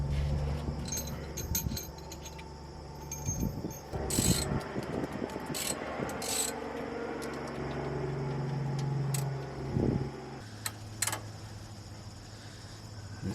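A ratchet wrench worked on the ground beneath a 30-year-old Ford F-150 with a 300ci six-cylinder engine. Bursts of rapid clicking come with occasional metallic clanks and bumps, close and fairly loud, and no one talks.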